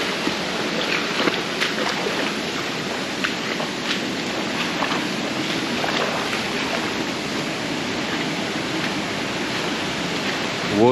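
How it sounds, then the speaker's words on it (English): A waterfall in a rocky kloof at Meiringskloof Nature Park roars as a steady, broadband rush of falling water, loud and constant throughout with no voices over it. "There's a waterfall coming up."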